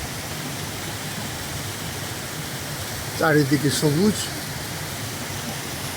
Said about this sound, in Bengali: এখানে একটি ঝর্ণা উপর থেকে বয়ে আসছে